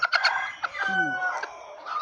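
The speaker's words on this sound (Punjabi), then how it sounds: "ਇਹ ਮੁਰਗੀ ਆ ਜੀ" A black-skinned Kadaknath hen makes short clucks and a drawn-out squawking call, held close and loud, alone without talk.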